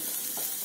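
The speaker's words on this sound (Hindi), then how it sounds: "बस इसको थोड़ा सा हम भून लेंगे कि इसमें थोड़ा अच्छा फ्लेवर आ जाए थोड़ी देर के लिए" Crushed fennel, coriander and cumin roast in a hot pan for aloo kachori filling, giving a steady, close, continuous sizzle with faint stirring.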